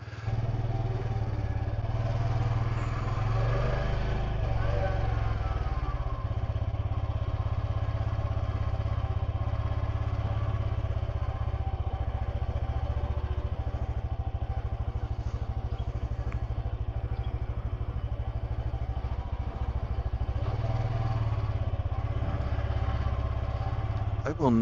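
A motorcycle rides through Phitsanulok, Thailand, recorded from a camera mounted on the front; a steady engine drone and road rumble with wind noise runs throughout, and someone talks briefly over it.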